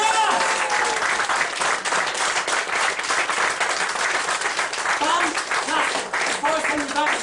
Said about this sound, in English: everyone will go majorly mad with applause